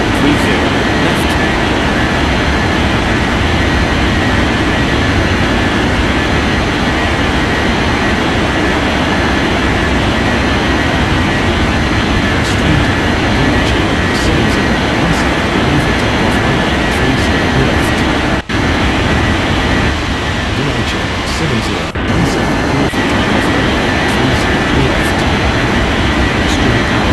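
A jet airliner takes off in an air traffic control video game, its engine roar loud, steady and broadband throughout with a couple of brief dropouts, and a voice talks faintly underneath.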